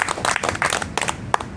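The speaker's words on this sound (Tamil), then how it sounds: "கைதட்டுங்க அப்போ எல்லாரும்" A group at a spiritual presentation claps together in uneven bursts, with a few sharp individual claps standing out and brief pauses between.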